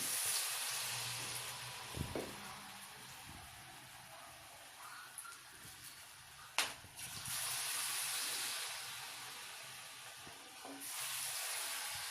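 Sliced potatoes for potato pakoda sizzle in hot oil over a lowered gas flame, a steady close hiss with a few sharp clicks and pops and no talking.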